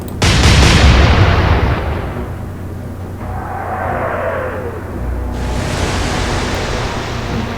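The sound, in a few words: naval guns firing in the video game Atlantic Fleet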